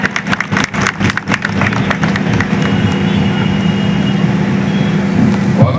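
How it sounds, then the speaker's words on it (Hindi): Crowd applause for a minister at the opening ceremony of a three-day perfume festival in Kannauj, with bursts of clapping early that then settle into a loud, sustained outdoor crowd roar with engine-like rumble underneath. "एक बार जोरदार तालियां"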